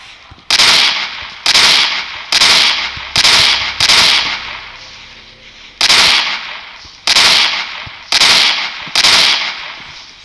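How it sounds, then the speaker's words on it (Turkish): A golden sniper rifle in a Minecraft PE guns mod fires or explodes repeatedly, nine sharp loud blasts with decaying tails in two uneven clusters, with no talk. "bu da keskin nişan tüfeğinin patlayan hali"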